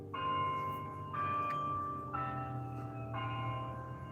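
A bell tolls on a warm, calm afternoon around half past four, with several sustained ringing strikes about a second apart, each overlapping the decay of the last, heard at moderate distance with no talking.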